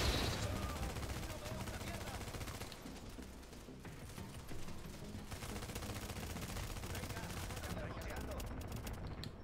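Enemy gunfire in The Division, a dense, sustained barrage of overlapping shots and bursts throughout, loud and continuous, with a brief lull midway before the fire picks up again.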